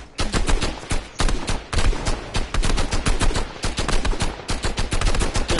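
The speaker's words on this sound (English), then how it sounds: "They're shooting at me." Rapid bursts of video game gunfire in a battle royale match, loud automatic-weapon volleys rattling in quick succession with brief gaps between strings of shots, close and dominant.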